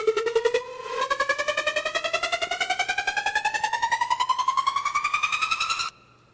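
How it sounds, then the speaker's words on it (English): A Cymatics tonal riser in an EDM track, a pulsing synthetic tone chopped into rapid even stutters that climbs steadily in pitch for about five seconds before cutting off abruptly. "And then I have this riser, which is going with the same chop"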